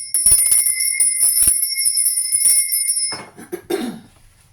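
A small hand bell rings with a clear, sustained metallic tone and soft repeated strikes for about three seconds, then fades into quiet handling noise and a cough.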